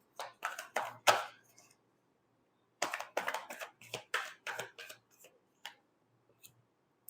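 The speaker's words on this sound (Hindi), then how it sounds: "Last shuffle." Tarot cards shuffled by hand in a quick, close burst of crisp riffling clicks, a pause, then another run of sharp card snaps that thins out toward the end.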